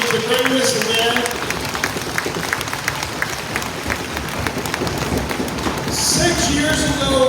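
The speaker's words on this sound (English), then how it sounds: "let's give a giant round of applause to your committee" Steady, dense applause from an audience at a colt starting competition awards ceremony, honoring the event committee. It runs continuously at close range, with a faint swell of cheering near the end.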